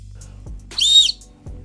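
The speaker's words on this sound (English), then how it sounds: "we have an actual functional whistle." One short, shrill blast from a whistle built into a New Balance 574 sneaker heel, high-pitched and close, with quiet handling noise before and after.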